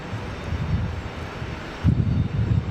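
An American Airlines A321neo arriving from Charlotte at Raleigh-Durham sends out a low, rumbling engine roar with wind-buffeted fluctuations that swells louder near the end, with no voices.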